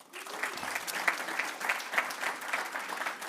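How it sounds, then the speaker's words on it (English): An audience gives a steady round of applause for the host at the Berkshire Innovation Center during a five-year benchmark event. The dense clapping is moderately loud, lasts the whole few seconds and carries no speech. "If we can give them a round of applause."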